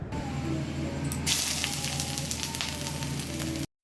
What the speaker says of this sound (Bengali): কড়াইটা গরম করে তার মধ্যে তে সর্ষের তেল দিয়েছি একটু শুকনো লঙ্কা দিয়েছি জিরা আর তেজপাতা ফোড়ন দিয়ে দিই